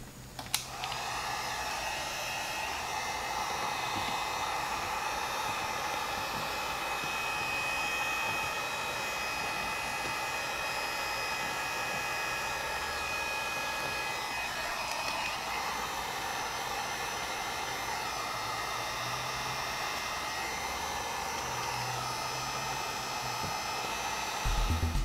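A heat gun warms vinyl tint on a car tail light, blowing as a steady, even whir from start to finish with no talk over it.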